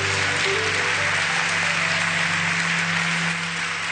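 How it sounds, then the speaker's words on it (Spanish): A church congregation claps together during a Spanish-language worship service, a dense, sustained wash of applause filling the room for a few seconds without speech. "Aplaudo al Señor, aplaudimos al Señor."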